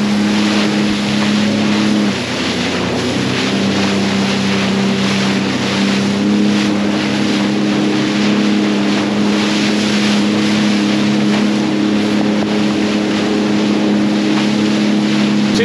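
A steady, loud motorboat engine drones throughout, with constant rushing water and wind noise as the hull pushes through big, choppy waves on the Great Lakes.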